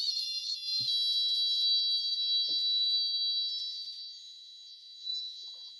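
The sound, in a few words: relaxation oscillator circuit producing a singing audio tone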